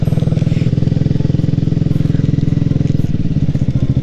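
A motorcycle engine idles steadily with an even, throbbing pulse near a parked spot by the Shirahama limestone cave in Minamiboso, Chiba, loud and close throughout.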